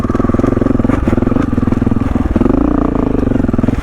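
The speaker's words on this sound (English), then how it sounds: "constant clutch use, blipping the throttle over and over" A dirt bike engine on a hot, rocky Moab trail, revving steadily with quick throttle blips, loud and close throughout.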